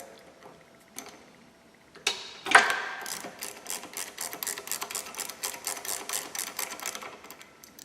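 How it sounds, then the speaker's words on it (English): Ratchet wrench with a 13mm socket backing out a linkage bolt on a 2011-14 vehicle, a rapid run of close, crisp clicks after a few separate knocks. "You're going to want to use a 13mm socket or a 1/2-inch socket."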